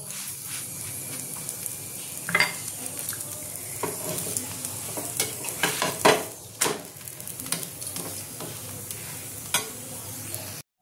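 A potato paratha fries in a little oil in a pan with a continuous soft sizzle, broken by sharp spatula scrapes and taps against the pan, close by, with no speech.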